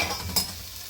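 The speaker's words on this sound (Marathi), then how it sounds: "व्यवस्थित फ्राय झाली आता कोळंबी" Prawns fry in oil in a pan with a close, steady sizzle, and one brief stir or scrape cuts through partway. Nobody speaks.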